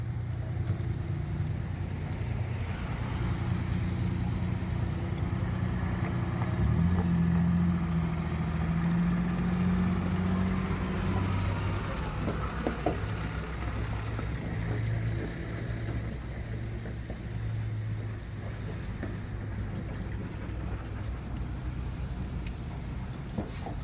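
Fire trucks idle in a row, including ladder 3, engine 3 and ladder 2 from the cold storage fire, lining up for an anniversary memorial; a steady low engine rumble runs throughout at moderate distance with light outdoor background noise.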